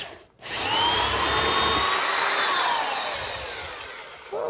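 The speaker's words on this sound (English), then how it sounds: "nice and quick drilling" A 300W corded hammer drill revs up sharply after a short pause and runs at a loud, steady whine while boring hardwood, tapering slightly before surging again at the end.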